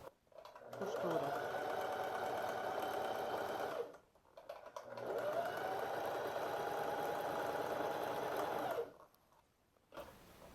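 A sewing machine stitches pleated shorts with loose elastic in two long steady runs of rapid mechanical whirring, each lasting several seconds, separated by a short pause near and clear.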